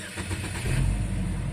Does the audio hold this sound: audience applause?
no